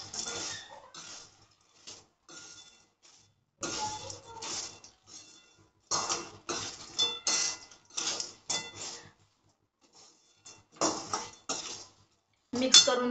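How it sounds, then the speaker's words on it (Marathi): A spoon clinks and scrapes against a bowl as fried sweet corn is tossed and mixed, in short intermittent bursts of metallic tapping separated by quiet gaps. "आणि याच्यामध्ये आता मी हे तळलेले संपूर्ण कॉर्न टाकणार आहे आणि मस्त असं मिक्स करून घेणार."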